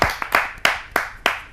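Clapping at a Hindi poetry gathering (kavi sammelan): about five sharp, evenly spaced claps in quick rhythm, close and fairly sparse rather than a dense crowd roar.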